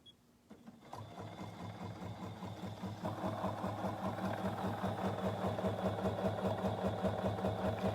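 A BERNINA 770QE embroidery machine stitches a Nordic Noel design, starting after a brief quiet moment and then running steadily as a close, loud, rapid rhythmic whirring and tapping that carries on without pause.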